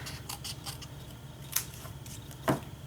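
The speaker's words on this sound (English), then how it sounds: "I'm going to take my scissors and I'm just going to sort of make some hills and valleys here" Scissors snip through paper while shaping hills and valleys for a craft shadow box, a few quiet, sparse cuts, with one sharper snip near the end over a low steady background hum.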